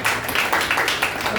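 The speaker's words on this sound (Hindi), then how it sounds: "तो इसलिए बहुत अच्छी तालियां बजनी चाहिए।" Audience clapping at a Hindi poetry and honour gathering for a doctor: dense, lively applause from a room full of people, steady and close throughout the short stretch.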